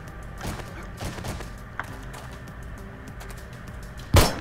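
Gunfire with expanding bullets in the game 7 Days To Die: scattered soft shots early on, then one loud, sharp blast near the end, with clicky keyboard-like taps in between and no voices.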